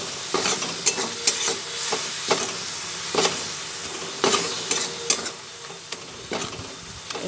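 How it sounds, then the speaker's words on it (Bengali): Spice masala frying over a raised gas flame while being stirred in a pan: a continuous sizzle broken by regular sharp clacks of a spatula scraping the pan, close and moderately loud. "সেই অবস্থায় গ্যাসের ফ্লেমটা এবার আবার বাড়িয়ে দিয়ে ভালোভাবে কষিয়ে নিচ্ছি পুরো মশলাটা"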